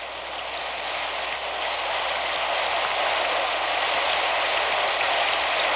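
Heavy pouring rain, a dense steady hiss of downpour that stays loud and unbroken throughout, with no voices.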